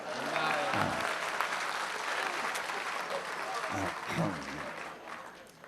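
Audience applause at a kavi sammelan, a poetry gathering, rising in a couple of swells under and between a voice addressing the crowd.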